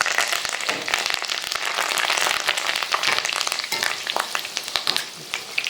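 A few sprigs of curry leaves dropped into hot oil after cabbage and egg frying, crackling and sizzling loudly with sharp popping bursts that settle into steady frying.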